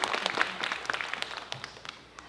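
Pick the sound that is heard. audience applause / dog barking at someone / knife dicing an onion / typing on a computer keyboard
audience applause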